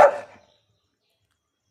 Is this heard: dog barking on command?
yes